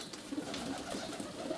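Feral rock pigeons squabble and chase one another, giving soft, low throaty coos in short repeated bursts over a steady background hiss, close and moderately loud.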